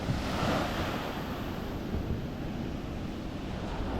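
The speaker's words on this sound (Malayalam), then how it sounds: "കടൽ ഭയങ്കരമായിട്ട് കുറഞ്ഞിരിക്കുക കണ്ടോ" Sea waves wash in with a steady roar on a calm, low sea, mixed with gusty wind buffeting the microphone, continuous and fairly close.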